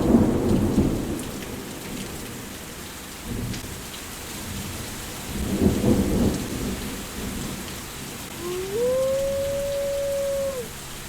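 Heavy rain hisses steadily while low rumbles of thunder roll in and out, and a brief high whistling tone rises near the end.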